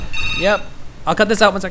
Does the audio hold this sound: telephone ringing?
yes